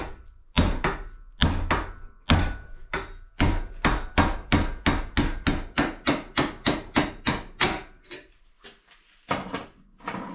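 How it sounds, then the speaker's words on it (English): Sharp metallic hammer blows ring out in a steady series of about twenty strikes, using an old kingpin to drive a spindle bushing out of a Model T Ford, close and loud with brief pauses. "I'm using the old kingpin to drive it out with."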